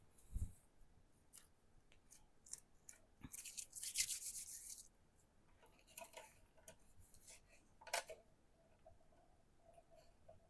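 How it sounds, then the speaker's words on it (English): Washi tape being cut and peeled, with a few close snips, soft rubbing and a longer crinkly tearing rasp in the middle, all quiet and without speech. "first we're going to just cut the tape off there."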